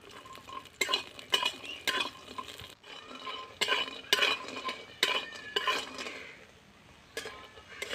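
Lentil dumplings (dal bori) fry in oil in a wok, with repeated rhythmic stirring strokes and clinks of a metal spatula against the pan over a soft, steady sizzle.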